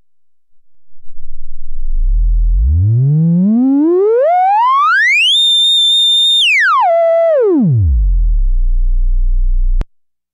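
Sine wave from an Electro Smith 3340 VCO Eurorack module sweeps as a clean pure tone from a deep low pitch up to a piercing high, holds, then drops back down to a low hum before cutting off with a click.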